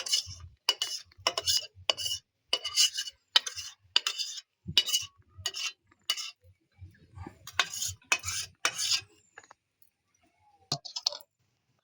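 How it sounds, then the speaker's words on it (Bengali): Plates of cooked ripe mango pulp are shaken to spread it evenly, giving bursts of rattling, clicking metal-on-surface knocks in quick repeated rhythm with short pauses between rounds. "থালাগুলো এইভাবে ঝাঁকিয়ে নিচ্ছি পুরো থালাটা চারদিকে যেন সমানভাবে হয়ে যায়"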